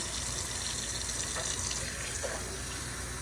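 Steady rush of cold tap water running continuously over canned beans in a container, close and fairly loud, with no talking.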